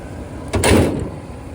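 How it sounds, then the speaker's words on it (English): The heavy hood of a 1973 Cadillac Sedan deVille hardtop is shut in a single close, solid thump that lingers briefly before fading. "So we'll close down the heavy hood."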